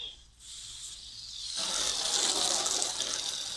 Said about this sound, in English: we'll just give that a rinse with a hose pipe